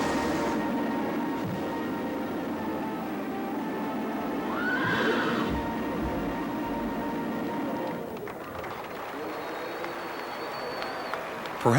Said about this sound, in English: the sound of a horse's hooves striking lightning from the earth.